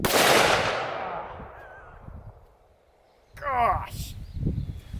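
A single loud, close shot from a Ruger Super Redhawk .44 Magnum revolver with a 7.5-inch barrel, fired with full-bore magnum loads; a long echo decays afterward, followed by a voice.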